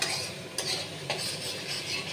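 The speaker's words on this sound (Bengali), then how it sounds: "মশলাগুলো থেকে তেলটা ছাড়া শুরু করে দিয়েছে" Spices frying in oil for a home lunch dish, stirred in the pan: a steady soft sizzle with two clear scrapes of the spoon against the pot, close and fairly quiet, no speech.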